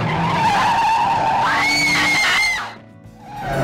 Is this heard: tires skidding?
yes